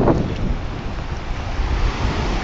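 Atlantic Ocean waves wash over a rocky shore in a steady, loud roar of surf mixed with heavy wind buffeting the microphone, continuous with no talking.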